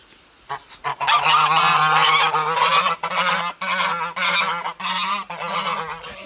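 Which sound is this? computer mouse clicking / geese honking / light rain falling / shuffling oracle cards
geese honking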